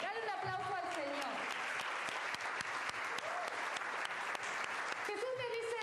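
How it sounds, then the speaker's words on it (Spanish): A church congregation claps in sustained, dense applause for several seconds, while a voice is heard at the start and again near the end. "Dale un aplauso al Señor."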